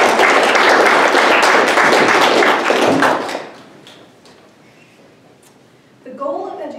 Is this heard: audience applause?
yes